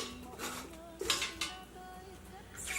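Kimchi ingredients, cabbage with green leaves among them, being mixed in a bowl, with soft rustling and a few sharp clinks of utensils against the dish, close but quiet, and a faint voice in the background.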